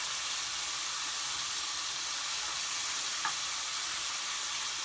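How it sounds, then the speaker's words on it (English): Steady, loud sizzling of bacon frying in a pan, a continuous crackling hiss with faint pops and no voices. "listen to that bacon sizzle"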